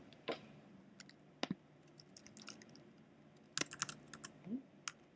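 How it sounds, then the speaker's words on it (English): Bursts of computer keyboard typing, scattered quick clicks and key presses in short irregular clusters with pauses between, fairly faint and close in a quiet room. "Type in their title of their message and enter their text here."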